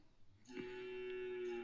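A cow moos once in a village street in the morning, a long steady low call starting partway in and holding to the end, fairly close over quiet background.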